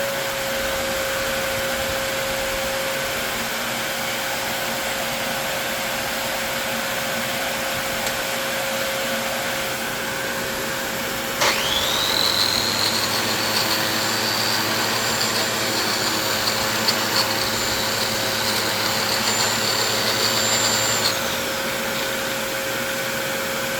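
A Dyson DC21 Stowaway vacuum cleaner switches on partway through and runs with its bin removed, a steady motor whine with a high airflow hiss holding at moderate, close level until it cuts off near the end.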